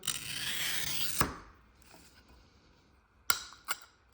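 Scored art glass snaps with a sharp crack after a carbide cutter score, followed by two more brief clicks of breaking glass; the nearby snap stands out against a quiet background after an opening stretch of rubbing noise.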